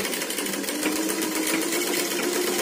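Sewing machine stitching a straight line through paper, a loud close rapid mechanical chatter that runs continuously without pause.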